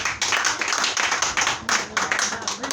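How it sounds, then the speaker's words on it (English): A small audience at a gathering claps in uneven bursts, fairly close and loud. The clapping briefly drops away and then picks up again, with voices faintly mixed in. "Clap this shit up. Clap it up."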